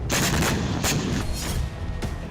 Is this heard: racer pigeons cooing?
no